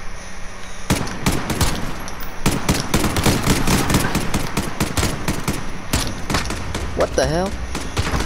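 Gunfire in Call of Duty: Modern Warfare during a 3v3 match, loud rapid bursts of automatic shots in several volleys, with someone speaking briefly over the shooting.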